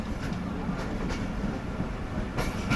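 Karakoram Express train rolling slowly along the track at about 30-35 km/h, with steady close rumble and rhythmic clickety-clack of wheels over rail joints, a few faint squeals.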